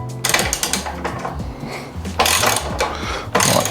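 Ratchet wrench cracking loose the chain adjuster nut on an Aprilia RS4 125 motorcycle, giving dense, loud mechanical clicking and grinding in bursts across the clip, close up, with no talking.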